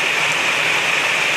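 Steady rain hisses evenly on a surface, a dense, constant patter with no voices or breaks.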